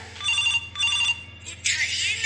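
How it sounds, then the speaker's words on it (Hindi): A mobile phone ringtone plays as two short bursts of bright, repeating electronic ringing, then a louder burst of different tone, with voices nearby. "ये एक रिंग टोन"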